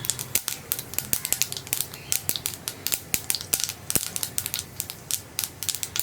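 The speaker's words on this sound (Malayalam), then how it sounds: "കടുക് ഒന്ന് പൊട്ടി തുടങ്ങട്ടെ." Mustard seeds pop in coconut oil in a non-stick pan, making rapid, irregular, sharp snaps and crackles close up, dozens of distinct pops over a low sizzling bed.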